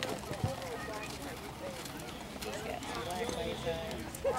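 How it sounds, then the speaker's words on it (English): Horse trotting in a show ring during a walk-trot class, with a steady clip-clop of hooves under a busy crowd and announcer talking over it. "Please trot your horse"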